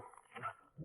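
Sled dogs in the snow on Wusong Island in Jilin give faint, distant yips and whines, brief and quiet over a low background.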